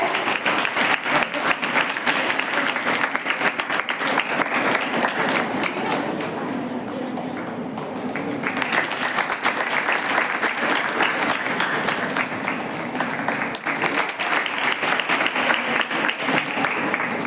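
A crowd at a Gandhi Jayanti quiz prize ceremony claps loudly and continuously, a dense wash of applause with scattered thumps, and voices murmur underneath.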